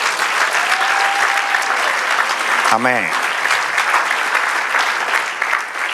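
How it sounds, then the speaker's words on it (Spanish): A church congregation breaks into loud sustained applause, dense clapping filling the space while a voice calls out briefly over it. "Otro aplauso al Señor."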